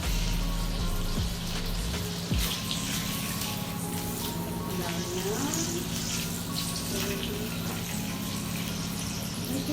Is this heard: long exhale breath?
no